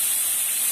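Sardine sambal sautéing in a pan gives a steady, bright sizzling hiss, continuous and close with no talking.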